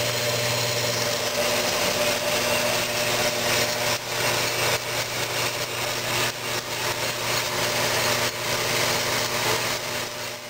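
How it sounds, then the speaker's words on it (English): A bandsaw cuts through metal in a workshop, a steady high whine with a grinding edge that runs continuously, close and fairly loud, with slight rises and dips in intensity. "I made another cut while I had this bandsaw going, while I was cutting metal."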